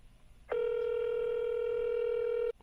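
A steady telephone tone with strong harmonics sounds for about two seconds over faint background, as a call to a pre-foreclosure homeowner is placed, then cuts off abruptly.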